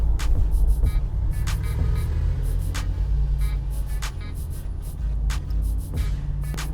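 2019 Mercedes G63 AMG Edition One engine during a donut, a steady loud low rumble with repeated sharp hissing bursts over it.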